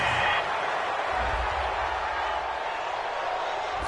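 Home stadium crowd at a Browns at Titans football game cheering an interception call, a broad, steady roar of many voices filling the whole stretch at moderate distance.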